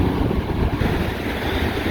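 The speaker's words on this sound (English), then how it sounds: "Oh, hi there, waves." Ocean waves wash onto a beach in a steady, close, loud roar of surf with gusty wind noise across the microphone, no voices heard.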